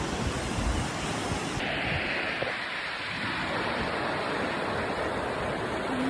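Sea waves at the Bolinao breakwater, a dense, steady roar of surf and rushing water close by, loud and continuous with no pauses.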